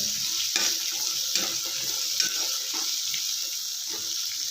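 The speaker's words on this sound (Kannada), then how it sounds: "ಇವಾಗ ಕಡಲೆಬೇಳೆ ಹಾಕ್ಕೊಳ್ಳೋಣ ಚೆನ್ನಾಗಿ ಮಿಕ್ಸ್ ಮಾಡ್ಕೊಳ್ಳೋಣ ಉರಿ ಮಧ್ಯಮ ಉರಿಯಲ್ಲಿ ಇರಲಿ" Chana dal roasting in a pan on medium flame, with a bright, even sizzle and hiss over soft repeated scrapes and rattles as the lentils are stirred, close up and steady with no talking.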